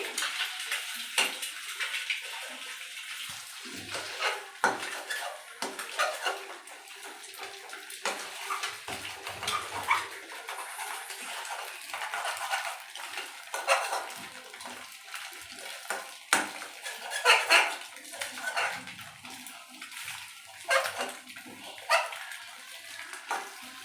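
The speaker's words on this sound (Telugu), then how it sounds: "ఇప్పుడు మళ్ళీ కలపాలి" Egg fry being mixed in a pan, with soft scraping and stirring clatter, wet sizzle and irregular clinks running steadily at moderate level throughout, no talking.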